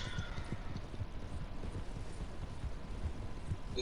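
A horse in Red Dead Redemption 2 clip-clops along at a steady walk, soft repeated hoof beats over a constant low ambient wash with no talking.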